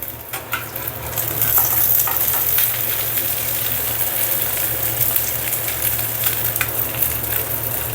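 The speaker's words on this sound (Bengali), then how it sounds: "একটু কড়া করে ভেজে নিব, যাতে পেঁয়াজ মরিচগুলো একটু সিদ্ধ হয়" Onions and chilies frying hard in a pan with eggs, a loud, close, continuous sizzle with stirring scrapes and crackles throughout.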